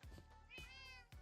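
A single drawn-out cat meow from Minecraft, fairly close and clear, with rising then falling pitch and short soft sounds before and after it.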